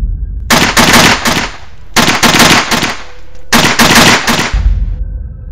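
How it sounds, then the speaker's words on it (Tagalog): Three loud bursts of rapid automatic gunfire, each a quick string of shots, separated by short pauses. "nakarinig ako ng putok ng mga baril"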